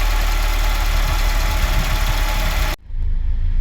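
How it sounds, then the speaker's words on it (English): A Citroën BX petrol engine with a mechanical fuel pump idles loudly and steadily, with a rough knocking rumble. It cuts to near quiet toward the end, then a low hum carries on. "I'm going to let it idle for a bit and just see if it behaves,"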